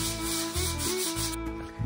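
Rough, rhythmic scraping of sandpaper rubbing hard against a rusty metal pipe, close and loud, in steady back-and-forth strokes.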